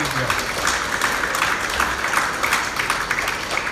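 Large crowd applauding steadily at a funeral, a dense, continuous wash of clapping with voices mixed in throughout.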